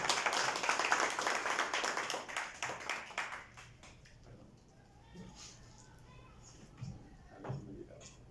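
Audience applause for panelists at a literary panel on short fiction, a dense burst of clapping for about three seconds that thins into a few scattered claps, then a quieter room with light murmuring.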